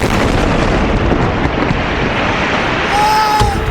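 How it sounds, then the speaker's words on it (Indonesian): Heavy blasts from Israeli airstrikes hitting buildings on the southern outskirts of Beirut, Lebanon, merge into a continuous loud rumbling roar of explosions and debris, dense and close. "rekaman video menunjukkan ledakan akibat serangan udara Israel menghantam sejumlah gedung"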